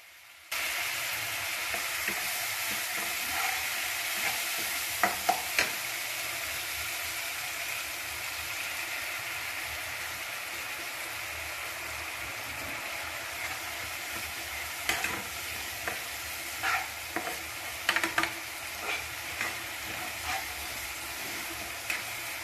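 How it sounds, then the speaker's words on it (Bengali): Spice masala for a young jackfruit curry sizzles steadily in a pan with a little water added, a constant close hiss broken by occasional spoon scrapes and clicks. "এবার মশলাটা যাতে আরও ভালোভাবে কষে যায় তাই সামান্য পরিমাণে জল দিয়ে দেব।"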